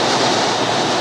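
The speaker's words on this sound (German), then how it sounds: "So, ihr hört wahrscheinlich den Wind hier ordentlich pfeifen." Strong wind roars steadily around a 2021 Tesla Model 3 Long Range driving at high motorway speed, a dense, unbroken rushing hiss with no pauses.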